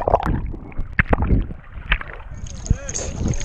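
A small boat out on the sea, with water sloshing and splashing against the hull and knocks of the boat in irregular bursts, close to the microphone, while a person talks and exclaims over it.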